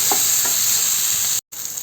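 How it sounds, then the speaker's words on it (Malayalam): Chopped tomatoes being stirred into a frying masala for a drumstick-leaf and egg dish, a loud continuous hiss and sizzle with a couple of soft scrapes, cut off by a brief gap of silence near the end. "അരിഞ്ഞു വെച്ചിരിക്കുന്ന തക്കാളി ചേർത്ത് കൊടുക്കാം നന്നായിട്ട് ഇളക്കി യോജിപ്പിച്ചു കൊടുക്കാം"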